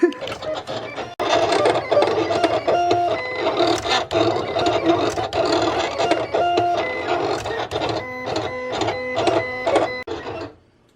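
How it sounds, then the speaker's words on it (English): A Silhouette Cameo 4 vinyl cutter cuts vinyl in a steady run of whirring, rattling carriage movements and short stop-start bursts, close and fairly loud. "Click send, and the Silhouette Cameo 4 is about to do its magic."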